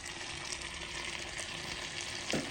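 Shrimp sizzling and frying in a pan for a shrimp curry, a steady close crackle with a brief stirring scrape near the end, no voices.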